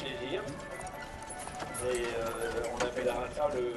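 Horses pulling carriages at a village horse festival in Tréouergat, with repeated hoof clip-clops on the road under continuous narration.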